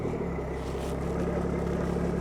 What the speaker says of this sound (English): cause you want to hear the turbo